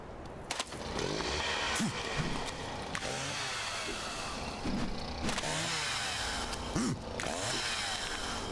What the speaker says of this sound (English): Ridiculous little chainsaw sword.